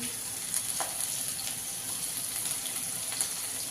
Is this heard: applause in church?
no